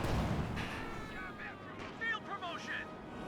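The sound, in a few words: anti-tank guns firing at a Panzer IV in the video game Company of Heroes 2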